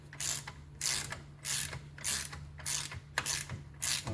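A ratchet tightening the drive shaft ends on a VW Golf Mk5 clicks in about eight quick, evenly spaced bursts of rapid pawl ticking, close and clear with no talk.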